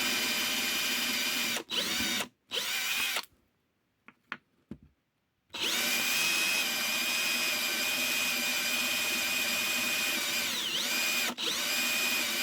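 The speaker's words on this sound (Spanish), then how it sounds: "También le hago los agujeros a la figura para unirla a la base con alambre grueso y pegamento" A power drill bores holes into an action figure so it can be fixed to a base, loud whining bursts broken by short pauses, with a stretch of quieter clicks and handling in the middle.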